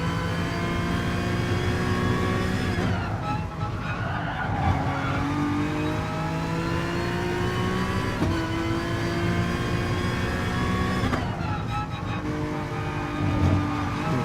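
A Honda race car in Gran Turismo Sport screams through a section at high revs, the engine note climbing and dropping with gear changes and lifts, with tire squeal and skidding mixed in, loud and continuous throughout.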